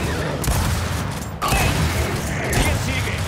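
Rapid gunfire bursts from the Gears of War 4 campaign, dense and continuous with a brief cut around the middle, loud mechanical clatter filling the whole stretch.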